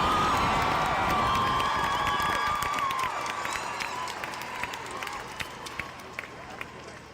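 A large crowd cheering and shouting at a school strike for climate rally in Melbourne, a loud continuous roar of many voices with whistles, gradually easing.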